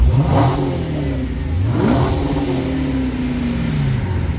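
A powerful 2023 Dodge Scat Pack Widebody engine revs hard twice in quick succession, pitch sweeping up and falling back, then settles into a loud rumbling idle.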